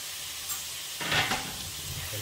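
Tomato and cabbage fry in hot oil in a pan, a steady sizzle that swells sharply partway through as fresh pieces hit the oil, then settles into a softer crackle, close and alone.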